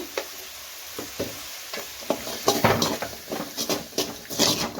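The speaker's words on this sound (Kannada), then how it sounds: "ಇದನ್ನು ಅಷ್ಟೇ ಮಿಕ್ಸ್ ಮಾಡಿ ಕ್ಲೋಸ್ ಮಾಡಿ ಟೊಮೊಟೊ ಸಾಫ್ಟ್ ಆಗೋವರೆಗೂ ಬೇಯಿಸ್ಕೊಳ್ಳೋಣ" Cooked peas and a large tomato with salt sizzle in a pan while a spoon stirs and scrapes through them in irregular close strokes over the steady frying hiss.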